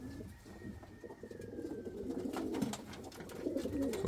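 Indian fantail pigeons coo softly in low, throaty pulses, fairly close and faint, with light rustling and small background noises around them.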